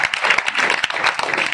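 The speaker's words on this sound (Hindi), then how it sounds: "मैं चाहता हूँ एक बार आप भाई साहब के लिए ताली बजाएं।" An audience at a local civic gathering in Vidisha claps in a dense, steady burst of applause, loud and continuous throughout.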